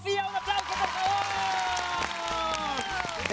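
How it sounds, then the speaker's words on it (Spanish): An audience applauds guests Nico, Amaya, Matías and Sofía on a television variety program, a burst of clapping with a tonal musical sting and rhythmic beat running beneath it. "¡Un aplauso, por favor!"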